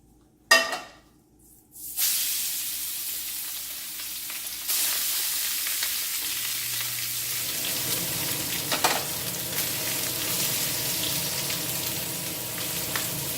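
After a couple of brief knocks, pork tenderloin hits smoking hot oil and erupts into a loud, continuous sizzle. The searing stays steady and close for over ten seconds, with a slight surge partway through.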